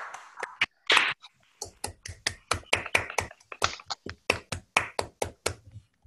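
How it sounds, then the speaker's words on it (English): A small online group claps over unmuted microphones at a lecture's close, producing sparse, uneven individual claps and taps that come in scattered bursts with gaps between them. "join with me in a round of applause"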